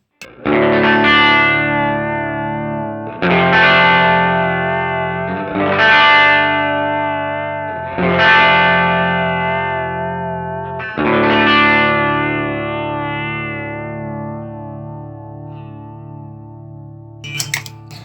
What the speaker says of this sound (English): another new addition is this swell vibrato